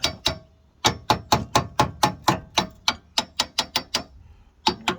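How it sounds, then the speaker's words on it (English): A series of sharp metallic hammer blows in quick, uneven bursts, loud and close, with brief pauses between groups of strikes, hammering a front-end part into place on a 2005 Chevrolet Tahoe. "Sometimes you have to take and hammer it in a little bit."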